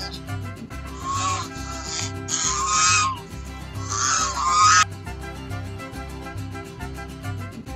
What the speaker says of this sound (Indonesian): Ini adalah angsa